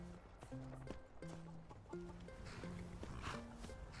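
Horses circle each other in the video game Skyrim, with a steady run of close hoof clip-clops and soft snorts over faint game music.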